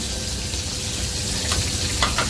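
Prawns fry in a hot pan with a dense, steady sizzle and crackle, close and continuous, with a few brief scraping stir sounds near the end.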